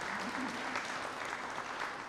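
A crowd at a regional airport runway celebration applauds, a soft, steady, distant-sounding patter of clapping throughout.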